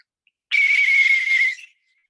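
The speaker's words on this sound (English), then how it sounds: "it's a longer whistle" Long, steady referee whistle blast used to signal a penalty in a judged competition, one loud sustained shrill tone lasting about a second, sounding alone with silence around it.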